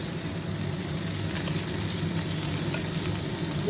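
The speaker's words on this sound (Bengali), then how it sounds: "এবার কড়াইয়ে চলে গেল পেঁয়াজ খুন্তি করে যাচ্ছে" Onion frying in a wok while a spatula stirs it, a steady close sizzle with faint scraping and occasional soft knocks, continuous and even with no talk.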